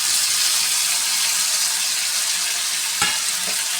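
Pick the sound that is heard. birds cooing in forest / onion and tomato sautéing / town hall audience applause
onion and tomato sautéing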